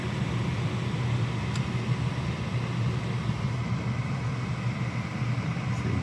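Furnace inducer fan running steadily on a new heating unit, a constant low mechanical hum and whir at moderate level with no talk.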